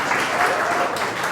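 A church congregation applauds for the Lord, a steady, close wash of clapping that fills the whole short moment without a break.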